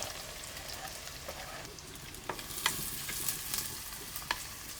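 Chopped onion, ginger, garlic and green chili frying in a pan for a village fish curry, a soft steady sizzle broken by a few light spoon scrapes and taps as the mix is stirred.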